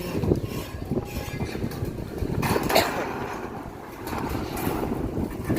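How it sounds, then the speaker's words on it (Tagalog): Strong wind roaring steadily across the microphone outdoors at a house roofing job, with broadband rumble and gusty surges, no voices. "So medyo malakas lang ang hangin."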